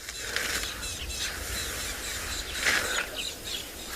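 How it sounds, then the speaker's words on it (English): A tawny-flanked prinia calls repeatedly in the wild at sunset, giving dry, rapid ratcheting chirps in short bursts against a constant outdoor background, fairly near and moderately loud. "Might actually be a tawny flank prunier that's making that noise,"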